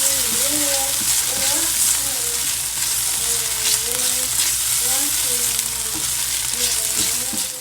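Onions fry in a pan on a stovetop set to medium-high heat, a dense, steady sizzle close by with scraping stirs, while a voice speaks faintly underneath.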